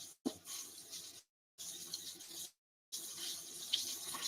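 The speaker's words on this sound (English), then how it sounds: "Let me wash my hands." Water runs from a tap while hands are washed at a kitchen sink, three close splashing streams separated by brief silent breaks, with no talking.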